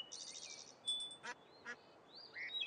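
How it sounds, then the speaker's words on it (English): A duck in a fishing video game quacks in a few short bursts among high synthetic tones and chirps, faint overall and set against a quiet background, with no talking. "There's the duck again."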